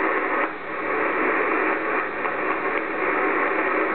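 Amateur HF radio receiver hiss and static with the noise canceller switched off, a steady dense wash of broadband noise with faint crackles and slight swells, loud and continuous, no voices.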